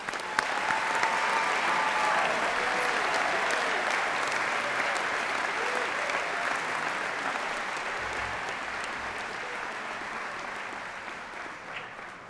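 An audience at a university College of Engineering spring commencement applauds its graduates with sustained, dense clapping that stays full and steady, easing only slightly in loudness over twelve seconds.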